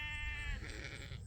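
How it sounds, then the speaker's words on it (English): A white sheep grazing on grass and goatweed gives a single bleat, a wavering tonal cry lasting about half a second, heard up close over a quiet outdoor background. "There's a lot of the white sheep are over here,"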